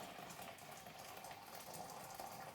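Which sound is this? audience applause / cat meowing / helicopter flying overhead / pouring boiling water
pouring boiling water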